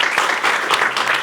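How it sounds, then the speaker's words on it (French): Audience applause in a studio talk show, a dense burst of many hands clapping steadily, loud and close, with no voices over it. "on peut t'applaudir"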